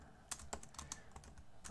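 Quick, close keystrokes on a computer keyboard, a soft burst of light irregular clicks entering text into a WordPress installation form, with no speech.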